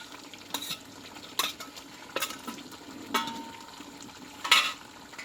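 Sautéed potatoes go into a Bengali mutton curry in a pan and get stirred, with repeated loud spatula scrapes and knocks over a low frying sizzle.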